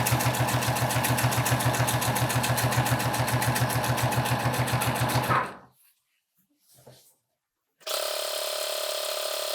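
Domestic sewing machine running steadily and loudly as it stitches a removable waistband over pins set across the seam, a fast rhythmic whir that stops abruptly, followed by a short near-silent pause with a faint click, then the motor resumes.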